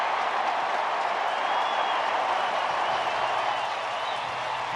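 Baseball crowd at a World Series game between the Texas Rangers and Arizona Diamondbacks cheering after a double, a broad, steady roar of applause and voices filling the whole stretch without pause.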